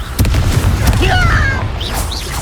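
A Confringo blasting spell bursting in Hogwarts Legacy, a loud booming blast followed by crackling, whistling magical effects and a voice shouting over it.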